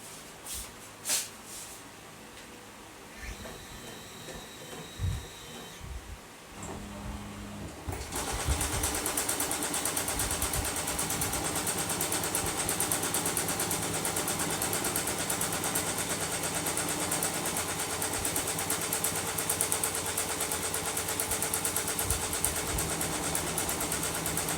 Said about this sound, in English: As the machine continues to run, it will be showing boldly on the screen.